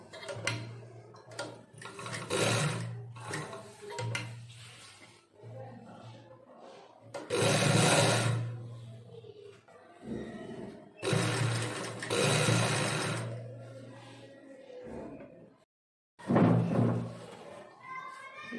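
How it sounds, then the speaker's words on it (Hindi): A sewing machine stitches a saree in several close, loud bursts of rapid needle clatter and motor whir, separated by short pauses and handling thumps, with someone talking between runs. "तो मैं दूसरी तरफ भी सिलाई लगा लूँ फटाफट।"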